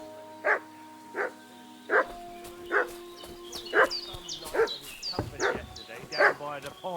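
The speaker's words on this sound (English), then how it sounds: "What's that dog making such a fuss about?" Dog in a medieval village in the game Kingdom Come Deliverance 2 barking repeatedly, about ten evenly spaced barks at moderate distance, with someone speaking alongside.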